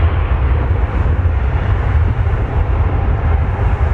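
A regional jet at Toronto Pearson airport, a loud, continuous, low engine roar heard close by throughout, with no talking.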